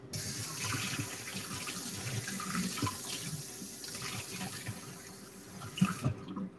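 Water runs steadily from a kitchen tap while a dish is rinsed under it, a continuous close splashing hiss with small shifts as the stream hits the dish, ending abruptly as the tap shuts off.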